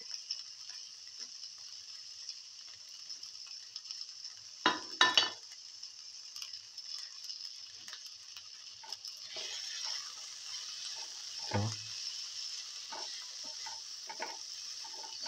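Tomato pieces sautéing in a pan for an okra, potato and fenugreek leaf rice dish, with a steady soft sizzle throughout and a few clattering stirs and scrapes of a utensil; no talking.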